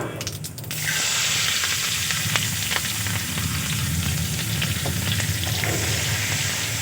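Chopped onions and whole cumin seeds hit hot oil left over from frying silver carp, a loud, steady close-up sizzle that jumps up after a brief quieter start and stays dense, with faint stirring clicks.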